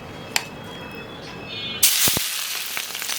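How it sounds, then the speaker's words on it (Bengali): Hot mustard oil poured onto chilies for pickle erupts into a loud, bright sizzle and spray after a quieter start with a small clink, the hiss sustained and close. "সর্ষের তেল থেকে একেবারে গরম, এটা হচ্ছে এই মরিচের মধ্যে দিয়ে দেব।"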